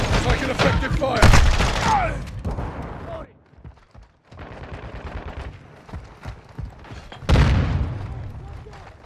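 Thermite and a flash grenade are thrown in Call of Duty: Modern Warfare II. Loud bursts and booms open and close the stretch, with shouted combat callouts in between and a quieter lull in the middle.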